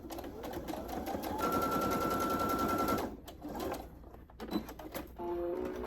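A sewing machine stitches rag quilt squares together with half-inch seams, a steady fast mechanical whir running loud and close for about three seconds, pausing, then starting again in shorter bursts.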